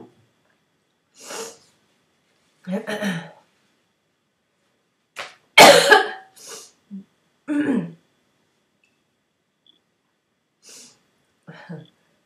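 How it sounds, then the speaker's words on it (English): A woman has a coughing fit with scattered throat-clearing and harsh coughs spread out between long silent gaps, close and fairly loud in a quiet room. "I've just had a coughing fit"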